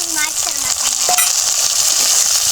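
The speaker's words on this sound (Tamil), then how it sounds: "இப்போ நம்ம தக்காளி வெட்டி வச்ச தக்காளியை உள்ளே சேர்த்து வதக்கிக்கலாம்" Chopped tomatoes sauté with onion and garlic in a pan for a village-style fish curry, a loud continuous hiss and sizzle with a few squeaky scrapes of the spoon, close up and without voices.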